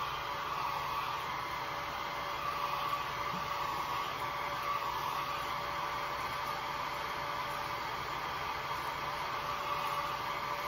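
A hair dryer blowing steadily on freshly painted fishing lure, a constant close airy whoosh with a faint motor whine, unchanging for about ten seconds with no speech.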